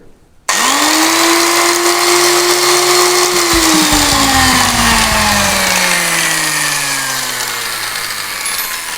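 An angle grinder rated at 12,000 RPM, fitted with a cutting blade and wired to a speed controller, switches on abruptly and runs with a loud, steady whine whose pitch sags slightly partway through.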